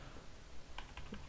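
Someone types on a computer keyboard, a quick cluster of a few soft key clicks close by over faint room noise.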